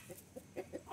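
A Rhode Island Red laying hen clucks faintly in a few soft, evenly spaced notes, quiet and somewhat distant, with no talk.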